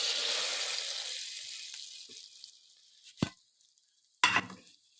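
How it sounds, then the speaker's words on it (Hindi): Hot oil tadka tempering sizzles loudly at first and fades, then two sharp splashy bursts of sizzling follow as it is poured into cooked masoor lentils. "देखिए अब हम डालेंगे तड़का"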